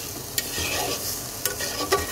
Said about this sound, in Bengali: এইবার আমি সব কিছু সুন্দর করে কষাবো